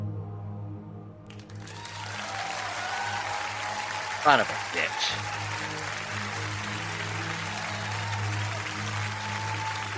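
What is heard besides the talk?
thunderous applause sound effect in a Call of Cthulhu game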